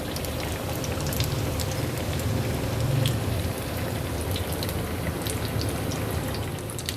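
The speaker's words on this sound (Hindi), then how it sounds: "एक दफ़ा और साइड पलट देंगे कबाबों की, और अच्छा सा गोल्डन कलर आने तक इसको फ्राई कर लेंगे" Potato kababs (aloo cutlets) sizzle steadily in a frying pan over medium heat, a continuous close crackle and hiss of oil with no talking.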